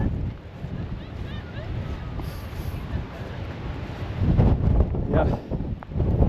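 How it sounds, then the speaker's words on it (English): Strong, gusty wind on Arthur's Seat in Edinburgh buffets the microphone with a continuous rushing roar, rising into heavier gusts toward the end. "it's very windy today, makes it very hazardous"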